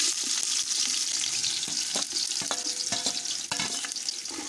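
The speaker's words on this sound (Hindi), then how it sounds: "तो प्याज का कलर आने तक हम इसको भूनेंगे।" Roughly cut onions fry in hot ghee in a pan for matar pulao, a loud, steady sizzle close by, broken by sharp scraping clicks as they are stirred.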